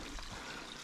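Small stream of water beside a hiking trail to Cross Peak, a soft steady trickle and gurgle heard close by for under a second, with no voices.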